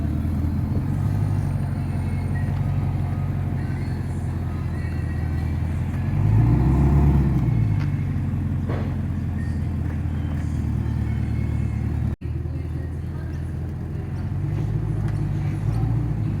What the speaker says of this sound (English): It's one quiet little exhaust system.